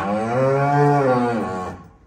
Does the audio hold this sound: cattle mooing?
yes